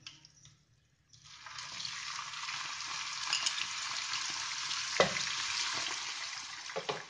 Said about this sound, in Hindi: अब इस प्याज को 2 से 3 मिनट तक कुक कर लेना है